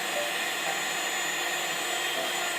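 A budget electric hand mixer with a built-in cooling blower runs at speed setting 7, giving a steady, loud, unbroken whirring hiss for the whole stretch with no talking.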